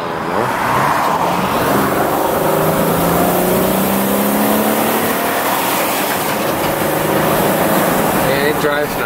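A 1998 Toyota Camry XLS sedan's six-cylinder engine hums steadily while driving, a loud, smooth drone with slowly rising pitch as it accelerates, road and wind noise blended underneath.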